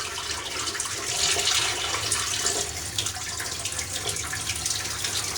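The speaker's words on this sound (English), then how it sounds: "I put both pairs of my jeans in this rinse water now" Dyed jeans sloshing and rinsing in a bucket of plain water, a steady broadband splashing and running-water wash with no pauses, close and fairly loud throughout.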